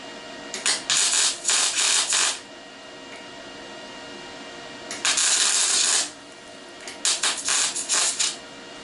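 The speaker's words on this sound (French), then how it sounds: "j'ai juste fait 3 points de soudure, là comme ça ma tôle est prête" Sheet metal on a Citroën Traction 11/15 rack is tack welded, giving three separate bursts of harsh crackling buzz, each lasting a second or two, with quiet gaps between them.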